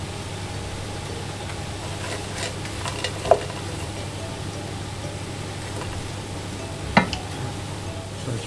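Frozen mixed vegetables sizzle steadily in a hot pan, a continuous even frying hiss with a couple of sharp clicks of stirring against the pan.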